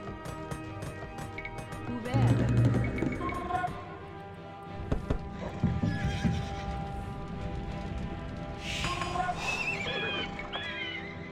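Horses from cavalry units in the Age of Empires 2 strategy game neigh and whinny several times over clip-clopping hooves, mixed with game music and effects, with someone talking faintly at moments.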